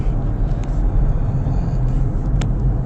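A remapped Ford Ranger WT 3.2 pickup driving up onto a high bridge, its engine and road noise forming a steady, close, low drone heard from inside the cab with no one talking.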